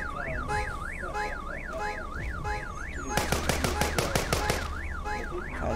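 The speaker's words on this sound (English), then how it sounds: "We're going to set the car alarm off." A car alarm in the zombie video game Walking Zombies 2 wails in a rapid up-and-down siren sweep, then switches to a fast, loud pulsing honk pattern, playing alone.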